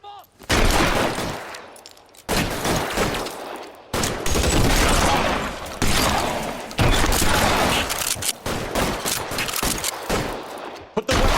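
Video game gunfire in LA Noire VR: loud, close volleys of shots in several dense bursts separated by brief gaps, sounding like a sustained shootout with multiple guns firing together.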